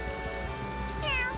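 A game cat from The Adventures of Elliot lets out a single short meow near the end, rising over steady background game music.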